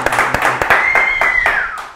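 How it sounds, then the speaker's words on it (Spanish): Studio audience clapping during a live Spanish-language entertainment interview, a loud, fairly sparse patter of close hand claps with a few sharp individual claps, a whistle-like tone sliding through the middle, and voices faintly underneath. "Un aplauso,"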